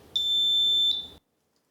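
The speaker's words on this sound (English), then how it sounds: "If we connect this to the circuit and close the switch, we can hear a sound. This is transforming electrical energy" An electric buzzer wired into a simple circuit sounds once the switch closes, giving one steady piercing electronic tone that lasts about a second and then stops dead, with no voices.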